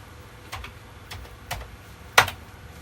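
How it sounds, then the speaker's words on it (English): A few sparse keystrokes on an old computer keyboard, four separate clicks spaced about half a second apart, the last one sharper and louder, in an otherwise quiet room. "But now try typing in run."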